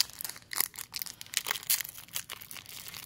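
A Pokémon Hidden Fates booster pack is torn open by hand, several short crinkly rips and foil crackles in quick bursts, close and fairly quiet.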